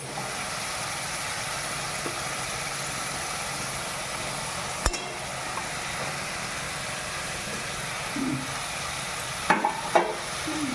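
Tengra fish dropped into hot spiced oil masala in a pan, giving a steady close sizzle with a sharp clatter and a few stirring scrapes and clinks near the end.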